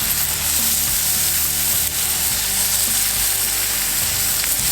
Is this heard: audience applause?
no